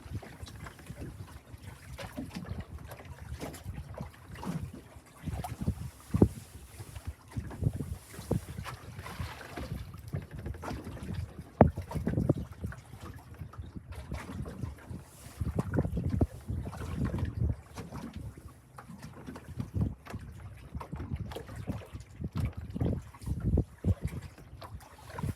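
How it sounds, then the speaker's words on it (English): Wind buffets the microphone beside Mosquito Lake in Ohio, producing a continuous low rumble with irregular gusty thumps throughout, loud and close, with no clear speech. "the wind's picked up a little stronger"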